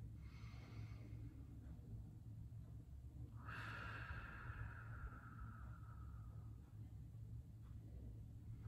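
A single slow, deep breath, a long airy inhale and exhale, comes up close and clear over a low steady background hum during a guided grounding breathwork practice.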